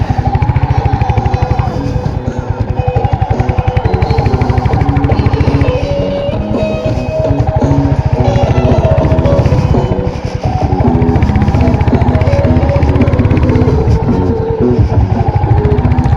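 Royal Enfield Hunter 350 motorcycle engine running steadily up close, a continuous low rumble with a pulsing beat that stays loud throughout, with brief dips in level partway through.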